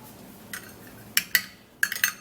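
A utensil stirs an egg-white beauty treatment in a bowl, sounding several sharp, close clinks against the bowl with quiet stirring between them.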